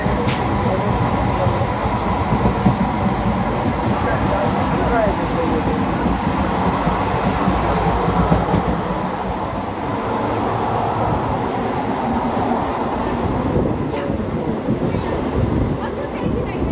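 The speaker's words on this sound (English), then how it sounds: "The train is so fast." A fast passenger train rushes past with a steady, loud, broadband roar and rumble that holds without a break, heard from close by, with no clear talk over it.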